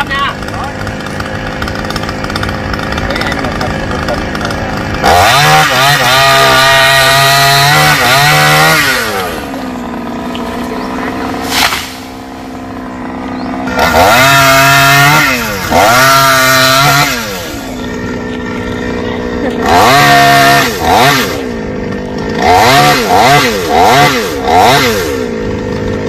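A chainsaw revs and bogs repeatedly as it cuts through branches of a large golden shower tree, loud and close, its engine pitch rising and falling in bursts.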